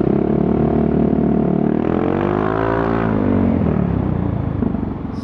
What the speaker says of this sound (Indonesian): Tuh kan narik. Gini loh motor matic tuh 210 cc, bodinya enteng.